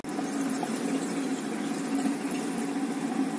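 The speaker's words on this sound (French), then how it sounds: "Voilà, on se faufile vraiment n'importe où avec cette petite moto." A KTM 390 Adventure single-cylinder motorcycle runs at steady low revs, a constant buzzing hum with a faint whine, riding through tight spots, with no voices.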